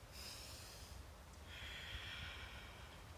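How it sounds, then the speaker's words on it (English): A single slow, deliberate breath, drawn in and let out to stay calm, soft and close, heard alone with faint airy noise and a low background hum. "deep breath."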